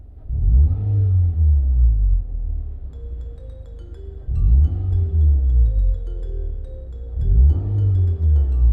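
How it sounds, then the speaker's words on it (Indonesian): A 2.4-litre Toyota Camry V (XV40) engine in drag throttle mode revs hard three times, each throttle blip rising sharply and then falling back to a low idle rumble, close and loud. "Dengar ya bunyi throttle-nya."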